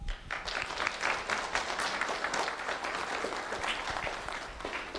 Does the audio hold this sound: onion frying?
no